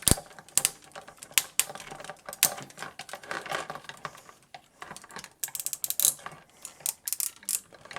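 Ratchet joints in the back legs of a Blitzway/5proStudio Carbotix Voltron action figure click repeatedly as they are moved: close, crisp clusters of ratcheting clicks with brief pauses, and no voices.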